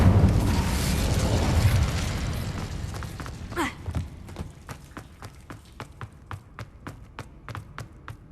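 An Incendio fire spell in Hogwarts Legacy bursts with a loud roaring blast that fades over a few seconds, then a run of quick, evenly spaced crackling pops and taps trails off.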